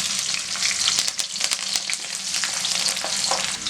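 Garlic fries in oil for a vegetarian tamarind curry made with elephant foot yam, a close, bright sizzle with rapid spitting pops and a few stirring taps, no talking.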